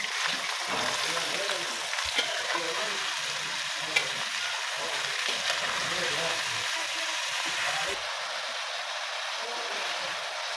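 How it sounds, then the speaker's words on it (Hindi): Onion and potato egg omelette frying in a pan, a steady loud sizzle with occasional stirring clatter, close up, continuing throughout with a voice speaking intermittently over it. "अब हम बनाते हैं अंडे"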